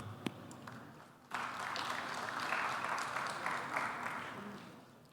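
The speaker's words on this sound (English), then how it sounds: "A big round of applause for them." Audience applause at a 2021 graduation ceremony, a dense sustained clapping that swells in after a sharp start and holds steady before slowly tapering, fairly distant in a hall.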